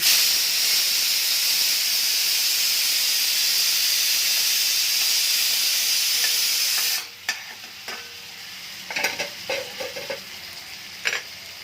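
Loud, steady sizzling of food frying in hot oil fills the first half, then drops away to quieter crackles and a few clinks.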